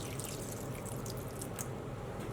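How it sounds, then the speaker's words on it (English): Water poured into a larger baking tray lined with paper towel for a water bath, a close, steady trickling and splashing stream with bright dripping accents. "We're going to fill this up with about 1 centimeter of water."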